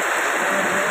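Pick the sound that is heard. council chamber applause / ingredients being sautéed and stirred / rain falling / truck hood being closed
rain falling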